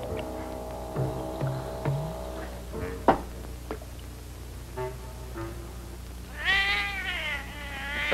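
A domestic cat meows several times, with short, faint mews spaced apart and a longer, rising call near the end, all over a low background hum.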